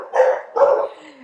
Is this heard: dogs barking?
yes